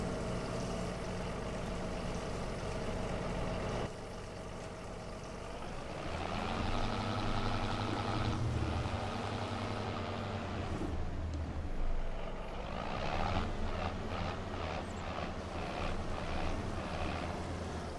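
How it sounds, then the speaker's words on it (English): Ford tractor engine in Farming Simulator 25, a steady low drone that runs throughout, with the pitch shifting and swelling midway as the revs change, then settling back. "I do love the sound of this Ford tractor."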